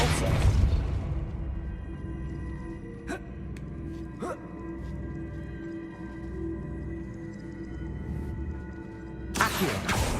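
A Depulso spell is cast in Hogwarts Legacy, giving a few sharp magical bursts and booming thumps over a low game ambience, with louder whooshing blasts at the start and end.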